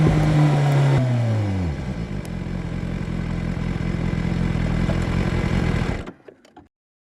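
A BMW S1000R motorcycle on a ride, its engine note falling sharply as it slows, then settling into a steady, loud drone close by before cutting off abruptly near the end.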